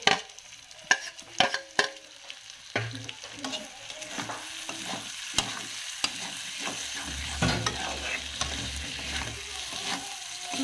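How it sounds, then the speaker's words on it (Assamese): Potatoes fry in a pan with spices while a spoon stirs and scrapes them, sharp clanks early on giving way to a steady close sizzle and shuffling stirs, no speech. "আলুখিনি দি অলপ ভাজিম।"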